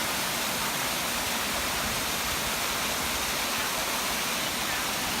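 Creek water at Chalk Ridge Falls in Belton, Texas, rushing over mossy natural rock formations as a dense, steady broadband roar, loud and continuous with no pauses.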